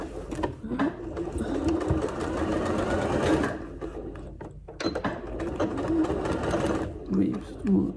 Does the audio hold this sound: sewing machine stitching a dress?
yes